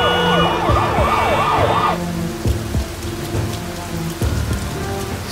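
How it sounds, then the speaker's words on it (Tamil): Heavy rain pours down steadily with a wailing siren rising and falling over it at first, then the downpour continues alone with occasional thumps. "பயங்கரமா மழை பெய்யுது"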